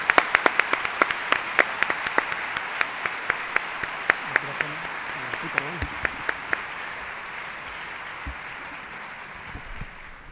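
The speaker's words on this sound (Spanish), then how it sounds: "Un aplauso." Audience applause in a church in Orihuela, Alicante, for an arriving guest speaker, a dense patter of clapping that holds steady, then thins toward the end with a few scattered claps.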